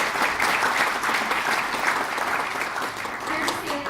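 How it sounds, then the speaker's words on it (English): An audience at a youth investor panel event applauds, steady, full clapping from many people that runs throughout at a constant level, with a voice faintly present underneath. "So let's have a round of applause for them as well"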